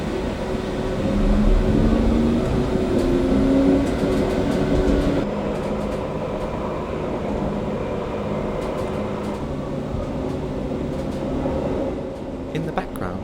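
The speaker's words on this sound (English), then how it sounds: "get on the next tram" A tram on the Uithoflijn line in Utrecht rumbles along with a steady low roar and faint clatter of wheels on rails, the noise easing slightly partway through.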